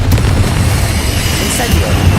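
The Confringo blasting spell fires in Hogwarts Legacy as a dense, loud burst of booming noise, with a continuous roar filling the short stretch and a voice present underneath.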